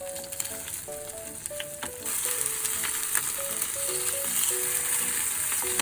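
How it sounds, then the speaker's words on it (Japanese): Slices of Spam fry in a little oil in a pan, giving a steady crackling sizzle that grows louder about two seconds in and stays close and continuous. Soft background music plays underneath and no one speaks. "少し油を入れてスパムを焼きます。"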